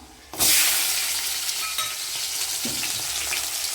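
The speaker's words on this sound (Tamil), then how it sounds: "எண்ணெய் காஞ்சிருக்கு கடலப்பருப்பு உளுந்தம்பருப்பு வெங்காயம்" Chana dal, urad dal and onion hit hot oil with a sudden loud burst of frying that settles into a dense, steady sizzle with a couple of faint stirring scrapes, close up and without talk.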